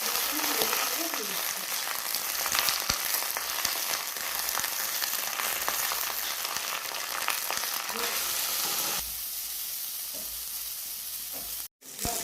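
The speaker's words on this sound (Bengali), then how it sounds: "কি সুন্দর করে কিন্তু লাল লাল করে ভেজে নিয়েছি" Kharkol leaf paste frying in a pan with chili and salt, giving a steady, close sizzle with stirring scrapes that runs continuously and then drops quieter toward the end.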